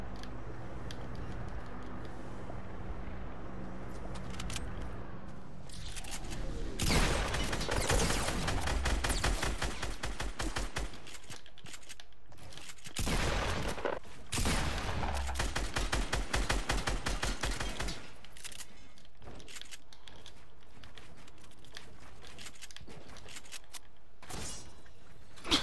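Gunfire in a Fortnite solo match, with bursts of rapid shots and a few single cracks spread across the stretch, loud and close, between quieter gaps and no talking.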